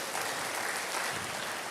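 A church congregation applauds together, a dense and steady wash of clapping that holds at an even level throughout with no voices standing out.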